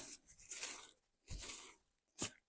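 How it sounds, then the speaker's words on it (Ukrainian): Old, diseased strawberry leaves are cut away by hand, making three short crisp bursts of snipping and tearing with quiet gaps between them. The sounds are close and there is no speech. "Ось так я обрізаю старі хорі листочки."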